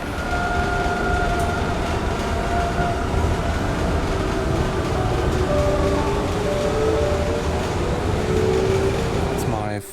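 Constant rumble and hum of a train in motion heard from inside a carriage, with faint voices talking beneath the steady rolling noise.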